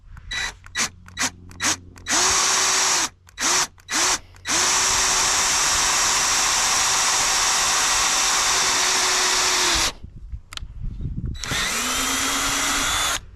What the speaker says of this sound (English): when y'all drill through things